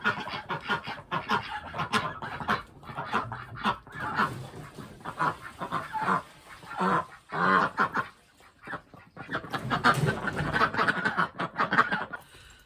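Farmyard ducks quack and honk repeatedly in loud, busy bursts close by, with brief pauses between calls and little talk.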